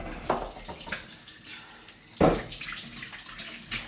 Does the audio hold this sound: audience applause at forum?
no